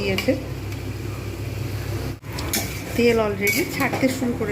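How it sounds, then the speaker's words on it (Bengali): Spice paste for potol dolma is sautéed in a pan, with metallic clatter of a spatula scraping and knocking against the pan over a faint sizzle, close and busy, while a person talks over it. "ভালোভাবে এখন এটা কষাতে থাকবো"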